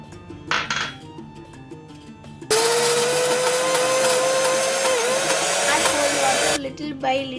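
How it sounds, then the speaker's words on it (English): A blender whirs loudly and steadily for about four seconds, pureeing homemade hummus ingredients until smooth, with a high motor whine that shifts slightly as the mixture thickens, framed by quieter kitchen clatter before and after. "Add all the ingredients to the blender and blend until smooth and creamy."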